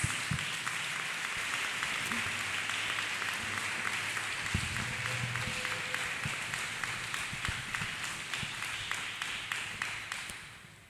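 A church congregation clapping hands for Jesus during a testimony service, a sustained crowd of claps that settles into a steady rhythmic beat and fades slightly toward the end, with no talking over it.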